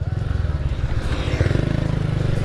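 A Honda Astrea Grand motorcycle fitted with a Karisma carburetor idles and revs with a rapid, throbbing, fairly muffled exhaust pulse, steady and close throughout the short stretch.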